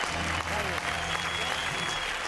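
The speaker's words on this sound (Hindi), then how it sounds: "इस स्टूडियो में बजती हुई तालियां" Studio audience applause at a Hindi comedy show, a dense, steady roar of clapping that stays loud and continuous throughout.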